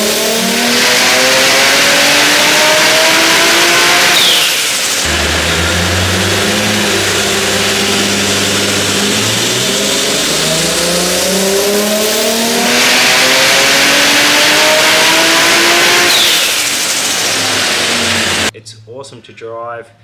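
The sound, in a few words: tuned sports car engine revving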